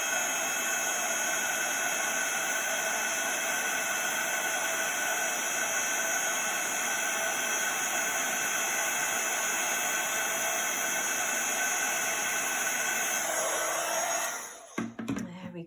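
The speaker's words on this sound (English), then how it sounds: "So if we hold our heat gun still," A heat gun held still over polished silver embossing powder blows a steady, loud airy roar that runs unbroken for about fourteen seconds before cutting off abruptly.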